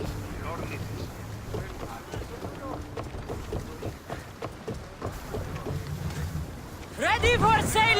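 A sailing ship cuts across open sea in Assassin's Creed Odyssey, with wind and rushing water washing steadily, faint splashes, and a louder surge of creaking and spray near the end.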